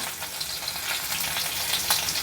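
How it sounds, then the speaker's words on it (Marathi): Four garlic cloves sizzle in hot oil for a tempering for a Konkani-style colocasia leaf curry, a steady bright crackling hiss with small spitting pops, close and fairly loud, with no talking. "4 पाकळ्या लसणीच्या घेतल्यात, त्या फोडणीला घालूया."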